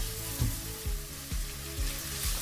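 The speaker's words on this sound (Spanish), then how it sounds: "Removemos y lo dejamos que rehogue un poco el jamón, para que suelte sabor al rehogarse junto con la mantequilla y la cebolla." Diced ham sizzling in butter with onion in a pan, a steady crackling fry with soft rhythmic thumps of stirring about every half second, close and fairly quiet.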